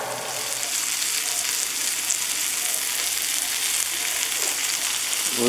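Deer steaks sizzle in a frying pan with a continuous loud, crackling hiss of fat and juices that stays steady throughout, close up and without talk.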